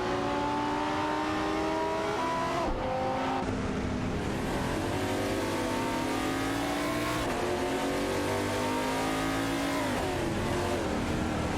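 Race car engines from an AI racing video game with a Porsche in the field, loud continuous revving that rises and drops through gear changes as several cars pass close by, with faint tire squeal.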